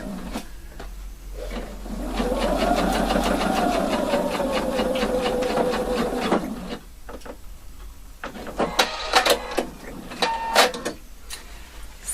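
A sewing machine stitches a lapel collar in a steady rapid run of needle clatter for several seconds, then stops, followed by scattered fabric handling clicks and soft taps.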